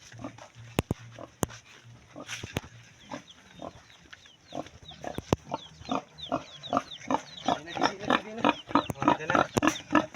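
Pigs, sows with piglets, grunt and snort close by, the grunts quickening into a busy, overlapping rhythm over the last few seconds.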